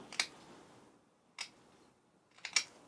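A hand tool takes three crisp, separate cuts into wooden end grain, each a short dry snap spaced about a second apart in an otherwise quiet room.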